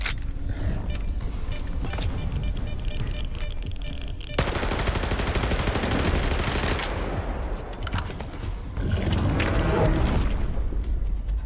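Rapid automatic gunfire in a Stalker-style shooter, dense sustained bursts that swell suddenly partway through and keep rattling loudly, with metallic creaks and game noise mixed in.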